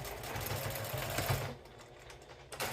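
A home sewing machine stitching a fabric tea wallet, run with a knee pedal: a fast, steady mechanical whir and rattle that stops partway through, followed by a few light clicks and handling noises, close by.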